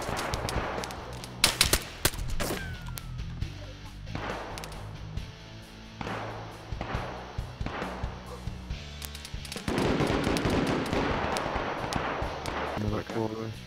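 Gunfire in the video game DayZ at a train station: sharp single shots and short bursts, some loud and near, others more distant, with game ambience and a voice talking between the shots.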